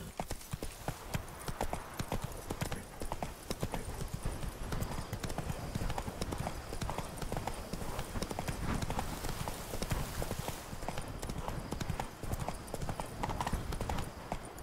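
A horse ridden in the video game The Witcher 3: Wild Hunt, Blood and Wine expansion, clip-clops in a steady, loud gallop over a busy game soundscape for the whole stretch, with a faint neigh.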